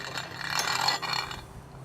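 A hand-cranked Victoria grain mill spins freely with a soft mechanical whir and light ratcheting, scraping rattle, close by, swelling briefly and then tapering away over under two seconds.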